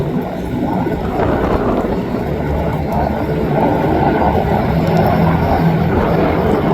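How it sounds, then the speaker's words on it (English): A USMC CH-53E Super Stallion heavy-lift helicopter arriving at an airshow, a loud, steady rotor and turbine roar that stays constant and fills the scene throughout. "Look at the size of the CH-53 Super Stallion."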